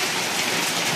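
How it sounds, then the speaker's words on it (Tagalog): Heavy rain pours down in Butuan, a dense, loud, steady roar of drops hammering surfaces, with no voices heard. "Super lakas itong ulan guys"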